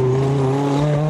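Peugeot 205 T16 rally car driving, a loud steady engine drone holding a constant pitch with a slight rise toward the end.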